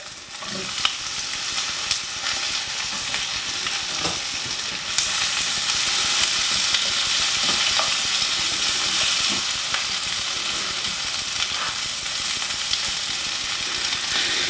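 Sliced potatoes sizzling in a pan with browned onions, a steady loud frying hiss with scattered pops and stirring scrapes, no talking throughout.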